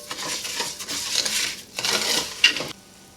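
Arborio rice sautéing in butter with garlic in a pan, a light sizzle under repeated scraping and stirring strokes, with a couple of sharp metallic clinks of utensil on pan near the end.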